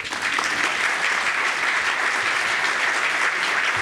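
Steady, dense applause from a seated audience at a plenary conference session, filling the whole moment at an even level without any voices over it.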